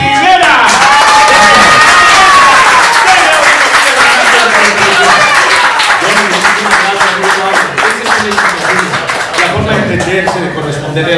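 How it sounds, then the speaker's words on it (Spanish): An audience applauds loudly during a live Spanish-language magazine show, dense clapping mixed with cheers and crowd noise that swells at first and holds strong, while a voice talks through it. "le vamos a dar un aplauso bien grande a Johnny Quisiera."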